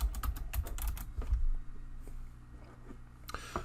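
Fingers tap out text on a computer keyboard in Photoshop, a quick run of close, crisp keystrokes that slows and fades into near quiet, with a final couple of faint clicks.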